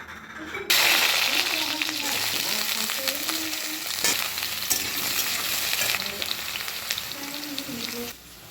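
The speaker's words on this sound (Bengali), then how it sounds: "এবার বেগুনগুলোকে ভেজে নেব।" Chopped brinjals (eggplant) fry in a home-kitchen pan, a steady close sizzle with occasional stirring scrapes; a voice talks intermittently over the frying.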